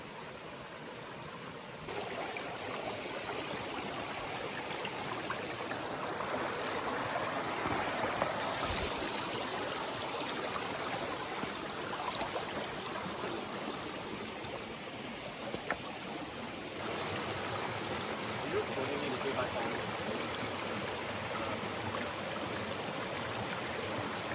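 The Williams River flows as a creek over a cut bedrock shelf in a rugged wilderness. Its steady rushing and trickling water is close and continuous and fills the whole clip without a break.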